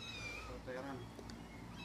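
A short-haired Persian cat in a breeder's cage gives a brief meow in the middle while a person talks over it.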